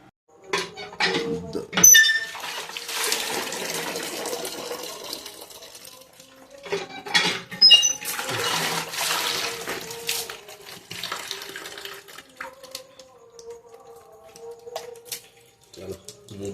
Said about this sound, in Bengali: আগে একটু মুখটা ধুয়ে নিই।